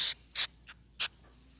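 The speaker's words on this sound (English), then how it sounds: "Spray." Three quick bursts from a spray bottle of cleaner onto drum cymbals hiss close by, separated by short pauses, with a softer puff between them.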